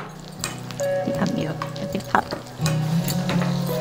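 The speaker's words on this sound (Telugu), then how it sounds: "అది వేగే ఒక 2 సెకండ్స్ ముందు ఈ కిస్మిస్ వేసేసుకుందాం." Raisins fry in a pan of hot ghee with cashews, a soft sizzle broken by stirring scrapes and clinks, while a person talks over it.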